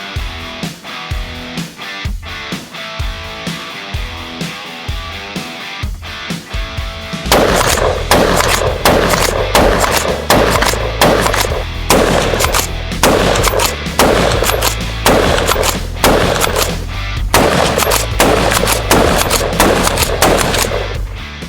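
A Wedgetail Industries MPR Mini .223 pump-action rifle firing, first a steady run of separate booming shots, then a denser, louder stretch of rapid cracks and echoes, heard without any talk.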